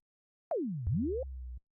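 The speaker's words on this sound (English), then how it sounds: "I put a whoop effect in here." Synth whoop effect made in Massive: two short sweeping tones, one falling then one rising, over a low sustained bass note, clean and isolated.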